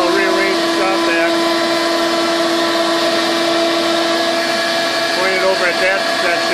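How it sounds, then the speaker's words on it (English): A Shop Vac runs steadily with a loud, continuous motor whine and airy roar as its exhaust blows into a freezer to defrost it, and a voice talks faintly under the noise. "I'll rearrange the Shop Vac."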